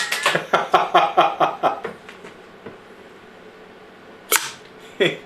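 A homemade air gun powered by a bike pump fires a plastic BB, heard as a sharp burst of air after a series of quick rhythmic pumping puffs, followed by a brief impact.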